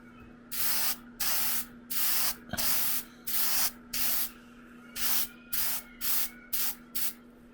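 Short bursts of aerosol spray paint coat a wine glass before laser engraving, about a dozen hissing blasts in an uneven rhythm, close and fairly loud, with brief silences between them.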